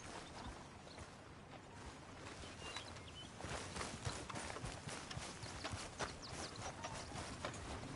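Horse hooves clip-clop in a steady walking rhythm in a PS4 video game, close and clear over a busy background of ambient game sound, with faint creaks.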